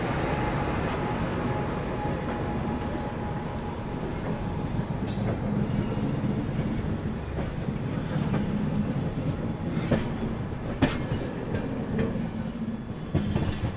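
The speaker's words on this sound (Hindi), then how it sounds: "यहाँ जी डिपार्चर हो गया हम लोग का गया जंक्शन रेलवे स्टेशन से" Passenger train pulling out of Gaya Junction railway station on the Mahabodhi Express route, with a steady rolling rumble and rhythmic clickety-clack of wheels over rail joints, occasional sharper clanks, continuous and close.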